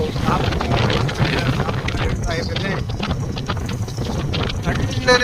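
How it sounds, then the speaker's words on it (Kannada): Gusty monsoon wind blows during a ride through dense green forest in Uttara Kannada, a loud continuous rushing roar buffeting close to the microphone while someone talks over it. "ಬೀಸುವ ಗಾಳಿ ಹಾಗೆ ಚುಮು ಚುಮು ಅಂತ ಬರ್ತಿರೋ ಮಳೆ"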